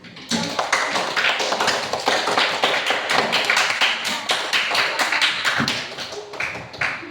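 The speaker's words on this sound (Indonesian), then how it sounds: "berikan tepuk tangan" Classroom applause from a group of students, a dense run of sharp claps lasting several seconds before thinning out near the end.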